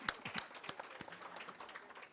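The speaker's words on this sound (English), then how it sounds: "A big round of applause for Nalini ma'am." Audience at a women's day design chapter event applauding as a woman is called on stage, scattered claps of moderate loudness over a short stretch.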